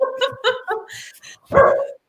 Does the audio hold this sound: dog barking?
yes